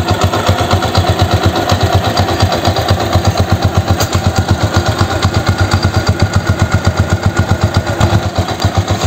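A Yamaha YTX 125 motorcycle engine idles close by after sitting unused for five days, its rapid, even single-cylinder putter pulsing steadily and loudly, with no voices.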